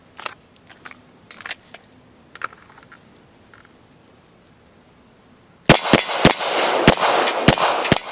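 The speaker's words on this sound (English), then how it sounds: "Let me show what it sounds like if your grip is just too much, you have too much fingertips grabbing that gun" SIRT training pistol dry-fired with an over-gripped, choppy trigger technique, a burst of about seven sharp, loud clicks in an uneven rhythm, close up, after a quieter stretch of faint taps.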